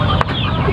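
A native hen clucking at her nest while laying eggs, a short loud close burst of throaty clucks with no talking.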